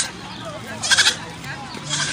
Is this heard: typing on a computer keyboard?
no